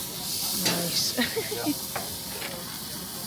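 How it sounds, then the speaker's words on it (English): Chicken pieces sizzling on a grill give off a steady, close hiss that runs throughout, with a person briefly speaking over it. "Ready for the sizzle."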